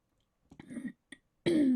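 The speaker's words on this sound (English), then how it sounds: "Excuse me if I clear my throat a few times." A person clears their throat, a couple of short rough bursts followed by a louder, longer throaty rasp, close and alone.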